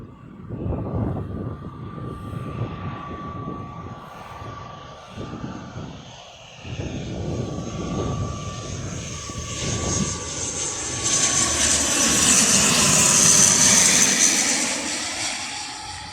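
A passenger jet flies near Birmingham Airport, its engine roar building from a distant rumble to a loud, close overhead pass with a rising high whine before fading slightly, heard outdoors by a park lake with no talk.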